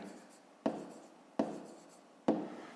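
Pen strokes on paper while working a fifth-grade maths exercise, three sharp scratchy marks at steady intervals, close and fairly quiet, with no voices.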